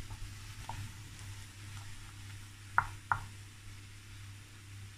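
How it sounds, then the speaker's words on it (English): Lentils stirred into a frying pan give a soft continuous sizzle, with a couple of sharp spoon knocks against the pan near the middle, quiet and close with no talking. "Stir that in."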